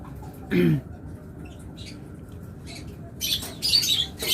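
Caged pet lovebirds give scattered chirps and squawks, a single low note early and then several bright, clipped calls toward the end, close by against a soft background.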